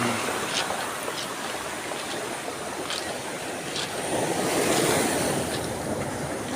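Waves wash onto a stony beach in a continuous rushing hiss that swells into a louder surge near the end, with no voices.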